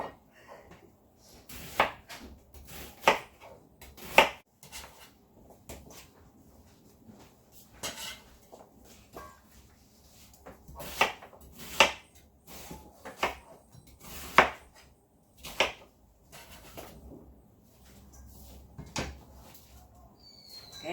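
A knife chops onions on a cutting board while preparing kimchi, giving sharp, uneven knocks in irregular bursts with quiet gaps between strokes, close and clear, with no talking.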